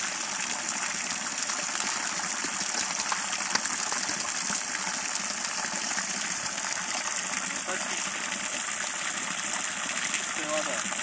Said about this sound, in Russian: Чистая вода.